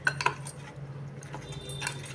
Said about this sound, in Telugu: ఇప్పుడు ఈ ముక్కలకి పట్టేలాగా తాలింపు అంతా బాగా కలుపుకోండి